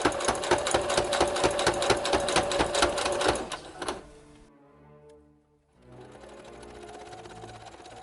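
Sewing machine stitching along cording on a baseball jersey, a loud fast rhythmic needle clatter for several seconds that slows and stops, followed by a brief hush and then low steady background noise.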